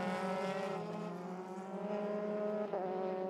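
Euroformula Open single-seater race cars at Silverstone howl at high revs in a steady, fairly distant drone, one engine note shifting briefly near the end.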